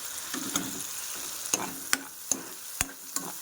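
Raw turmeric paste fries in a pan with a constant sizzle, and a spoon strikes and scrapes the pan about six times at an uneven pace. Nobody speaks.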